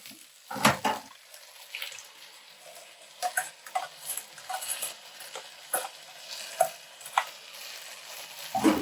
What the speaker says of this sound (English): it's time to add the crushed tomatoes to the pot